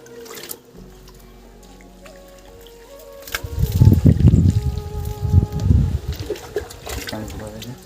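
Water from a bucket is thrown onto the wall of a small new house, a sloshing splash that starts after a quiet stretch and continues in uneven rushes up close.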